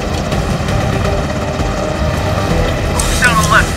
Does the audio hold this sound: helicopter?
yes